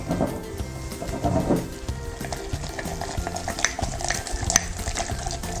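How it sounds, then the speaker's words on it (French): Sourdough starter stirred vigorously in a bowl, a steady run of wet scraping and clacking strokes at close range, moderately loud and without talk. "on mélange énergiquement"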